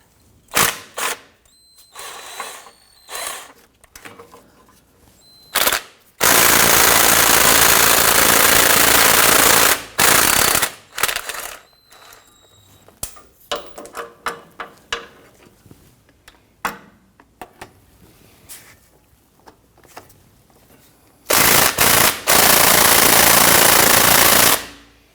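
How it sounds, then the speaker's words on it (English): A ratchet with an extension works 10mm bolts on the front drive shaft of a 2006-2010 Hummer H3 3.7L. Sharp clicking ticks are scattered throughout, broken by two long, loud rasping bursts near and alone. "You can probably use a ratchet."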